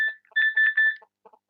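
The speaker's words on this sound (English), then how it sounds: "Sorry, that was my cell phone beeping" A cell phone beeps in short electronic tones, a few longer bleeps followed by fainter quick chirps, alone in quiet.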